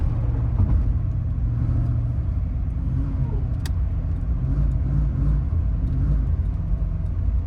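Deep, steady rumble from the 350 V8 of a 1991 Pontiac Firebird Formula, loud and close, idling with a slight uneven lope and a faint click partway through, no one speaking.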